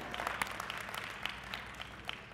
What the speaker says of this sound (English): You gotta clap a little louder.